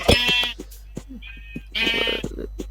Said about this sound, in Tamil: ஷீப் கிடச்சிருச்சு.